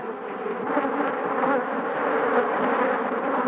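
A swarm of killer bees buzzes densely around a beekeeper, a loud, continuous, close droning hum that holds steady without a break and has no voices over it.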